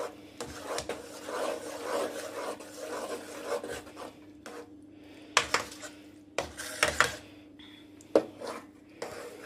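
Spoon stirring caramelised onions into saag in a cooking pot, giving repeated close scraping and rubbing strokes with sharp clinks against the pot, pausing briefly between bursts.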